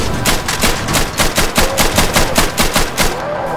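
Rapid, evenly spaced automatic fire from a chain-gun-style weapon in the shooter game DOOM: Hideous Destructor, a loud continuous burst of about a dozen shots per second with no pause.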